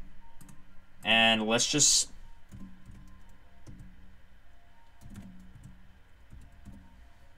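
Light, scattered keyboard clicks tap away at close range under a quiet room tone, with a short burst of speech near the start.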